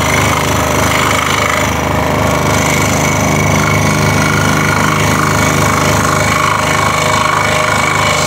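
A saw blade cuts a workpiece being slowly fed and rotated in a workshop, producing a loud, steady mechanical drone with a rapid vibrating buzz, close and continuous with no talking.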